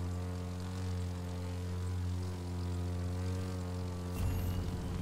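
A propeller airplane flies in The Crew 2 video game, giving a steady droning engine hum with a strong low tone, and a brief rougher burst near the end, with no talk.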